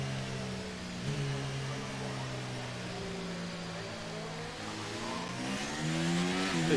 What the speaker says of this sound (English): Here comes the safety car.